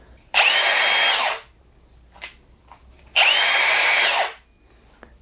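A power grinder with a trigger handle, rapid stop and variable speed whines up loudly, runs about a second and spins down fast, then does it again, with faint handling clicks in the quiet gaps.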